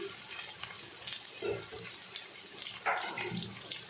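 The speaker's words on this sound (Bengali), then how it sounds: "এখানে আমি একটু অল্প করে জল দিয়ে নেব, নয়তো মশলাটা পুড়ে যাচ্ছে।" Water poured into a pan of onion and chili paste over low gas while cooking a fish curry, a soft continuous splashing hiss with a couple of brief bursts, no voices.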